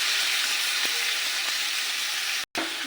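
Boiled moong dal hits a hot pan over a tempering of cumin, chopped ginger and slit green chillies, giving a loud, close sizzle for a few seconds with a brief break near the end.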